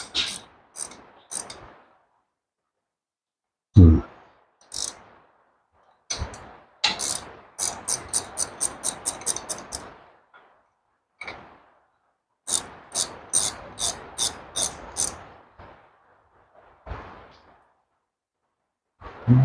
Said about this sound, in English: Use this ratchet wrench to run them down close.